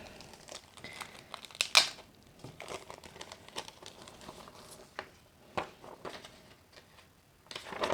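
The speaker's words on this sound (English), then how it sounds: "I'm gonna take out this tape, reuse it later." Packing tape is peeled and pulled off the box of a Kotobukiya ARTFX J 1/8 scale Kusuriuri figure, giving close crinkly rips and rustles in irregular bursts, with a sharper crackle early on.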